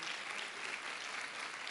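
A church congregation claps together in a dense, even burst of applause that fills the room steadily for a short stretch, with no voices above it.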